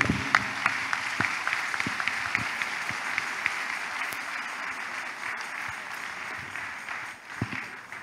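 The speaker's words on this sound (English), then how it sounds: "clap for the Lord once again" A church congregation claps for the Lord during a testimony service, steady sustained applause from many hands close by, continuing without talk for the whole stretch.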